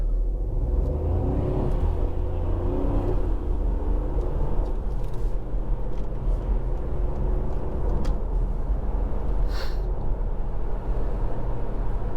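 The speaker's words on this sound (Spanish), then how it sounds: "prueba de launch del coche y a ver qué tal le va al coche" A 2020 Ford Puma ST Line engine rumbles and revs during a launch, accelerating hard, a steady low roar building over several seconds.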